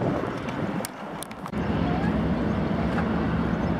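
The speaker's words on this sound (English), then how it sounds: "The water is very rough because of all the ferries going." Steady rumble of rough water and wind against a kayak on Toronto's harbourfront, with a low engine drone from passing ferries, continuous and fairly loud.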